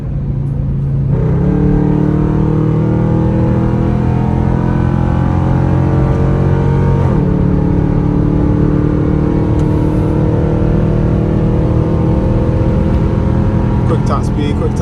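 A 2021 Dodge Durango R/T with straight-pipe exhaust revs and accelerates steadily in sport mode, its deep droning exhaust note climbing in pitch through two gear shifts, close and continuous.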